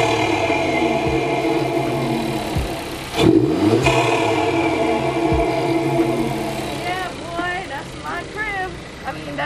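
A car engine idles and revs with sharp throttle blips, tuned for pops and bangs, loud and close, while a person talks over it.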